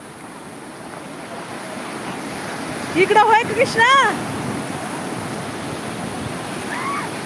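Waves on the Krishna river wash and rush in a steady, close roar, with people talking briefly over the water partway through.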